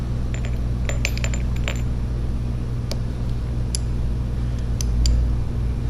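Metal gear parts for a Harley-Davidson Twin Cam six-speed transmission clink and tick as they are fitted together, several sharp light metallic taps spread across the moment over a steady shop hum.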